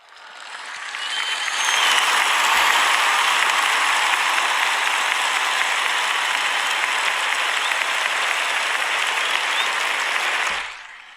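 A crowd bursts into loud sustained applause and cheering that swells in quickly, holds steady for several seconds, then cuts off.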